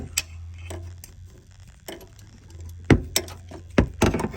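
Gear wrench ratcheting on the starter nut of a gas golf cart, a series of close, sharp clicks and taps in uneven bursts over a low hum.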